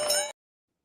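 A single bright bell strike rings briefly and then cuts off abruptly after about a third of a second.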